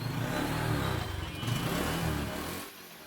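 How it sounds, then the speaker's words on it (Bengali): A motorcycle engine runs and revs on a stand, turning an old drive chain over a new front sprocket. The close, steady mechanical drone swells and dips before easing off near the end. "এখন আমি বাইকটা স্টার্ট করে"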